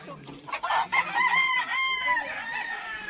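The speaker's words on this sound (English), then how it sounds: "The cockfighting chickens are just over there." A cockfighting rooster crows loudly and nearby among clucking kampong chickens in the backyard of an Iban longhouse in Malaysia, with a single drawn-out crow over scattered fowl sounds.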